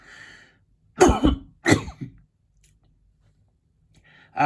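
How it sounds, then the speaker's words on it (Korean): Two sharp, close coughs in quick succession followed by a brief throat sound, from a man giving a history talk, with quiet room tone around them and a hint of speech at the edges. "기침이 나오네요."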